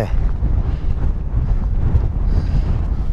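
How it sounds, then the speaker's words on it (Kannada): Strong, continuous wind roaring and buffeting the microphone on the cliff at Preikestolen, Norway, a heavy low rumble throughout with no pauses. "ಗಾಳಿ ತಳ್ತಾ ಇದೆ."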